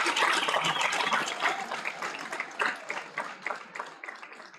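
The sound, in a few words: audience applause at a graduation ceremony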